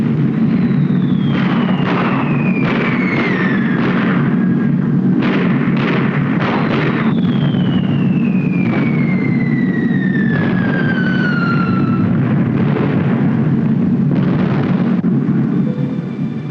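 Bombs from B-17 Flying Fortresses exploding on a 1942 bombing run, a loud, dense series of booming blasts over a constant heavy roar, with falling whistles of dropping bombs threaded through, no voices.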